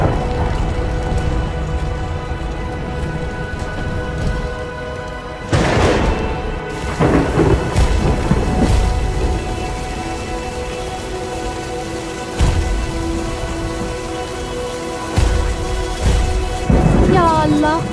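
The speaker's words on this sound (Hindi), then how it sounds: "तेज बारिश हो रही है" Heavy rain pours down steadily while thunder rumbles and cracks in several loud booming bursts during a storm, with voices and other noises occasionally overlapping.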